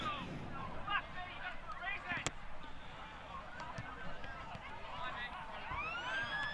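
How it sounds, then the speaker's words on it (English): A long siren tone rises and holds through the clip, ending the first quarter of an Australian rules football match at Kapunda Oval, heard over a busy crowd murmur and scattered voices. "So the siren goes to end the first quarter here at Kapunda."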